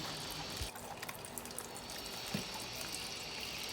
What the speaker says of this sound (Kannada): ರುಬ್ಬಿದ ಪೇಸ್ಟನ್ನು ಫಿಲ್ಟ್ರ್ ಮಾಡಬೇಕು